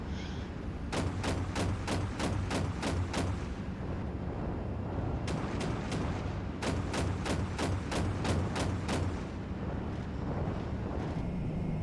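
Repeated tank gun shots from the Steel Beasts game ring out in quick bursts, several sharp blasts in two volleys over a steady rumbling engine and wind-like noise, with no speech.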